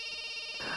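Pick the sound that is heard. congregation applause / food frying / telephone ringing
telephone ringing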